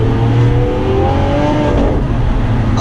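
A Lamborghini Aventador engine roars loudly and steadily, its pitch sliding gradually downward as the revs ease off, close to the microphone.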